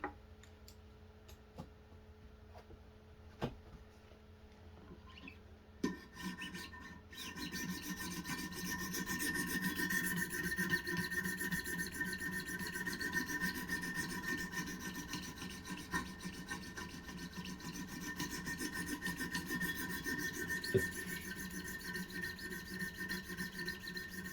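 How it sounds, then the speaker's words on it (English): A knife is sharpened on a 200 grit stone in a Wicked Edge Pro-Pack III guided system, starting with a few sharp clicks and taps, then a continuous faint rasping scrape of stone on steel that keeps going steadily. "let's go on to the 200 grit. And each progressive grit gets less and less obnoxious to hear"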